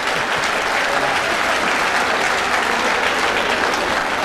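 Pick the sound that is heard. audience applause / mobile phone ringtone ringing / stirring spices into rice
audience applause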